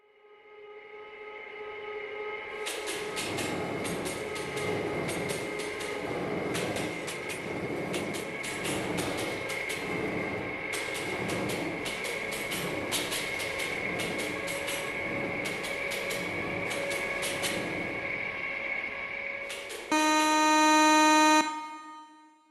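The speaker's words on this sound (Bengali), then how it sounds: "ওই ট্রেন আসছে, দেখতে থাকুন ট্রেনটি কত স্পিডে যায়, তারপর আমাদের ট্রেন ছাড়বে।" Mumbai local train in the RG Train Tech Demo mobile game passing by, a long steady rumble with rhythmic clacking of wheels over track joints, ending with a loud, sustained horn blast.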